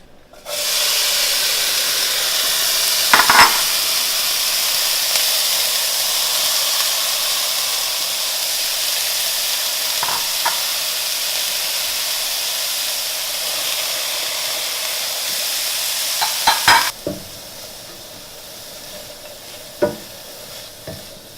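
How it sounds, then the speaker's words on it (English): Carrots and onion sauté in a pan with a steady, loud sizzle that runs almost without a break, while occasional stirring taps and scrapes cut through near the start, middle and end. "Time to start sauteing the veggies"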